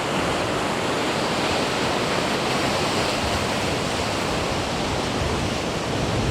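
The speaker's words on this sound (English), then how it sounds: "You get a wave coming in now" Ocean waves wash in against rocks on a bright sunny day, a steady loud broadband rush of surf that stays constant for the whole stretch, with no talking.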